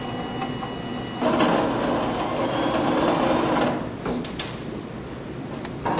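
A motorized rodent exercise wheel, switched on by an infrared sensor as a mouse enters, whirs steadily with a mechanical hum that swells louder partway through, with a few light clicks and knocks.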